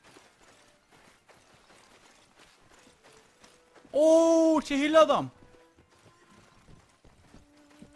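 Horses in a town square in Mount & Blade: Warband, a run of soft, faint hoof clip-clops ticking steadily in the background. Someone speaks briefly in a loud, close burst midway through.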